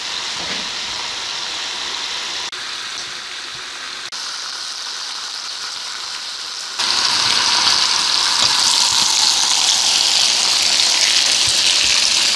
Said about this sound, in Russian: Прошло буквально 30 секунд, и он зашкварчал.